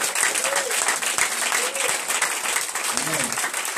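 Inside a church service, a congregation breaks into sustained, dense applause to praise the Lord. The clapping stays loud and close throughout, and a voice rises faintly through it.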